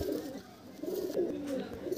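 Low, soft cooing from Dhille pigeons rolls on continuously, close but quiet, with a faint noisy room around it and no talk.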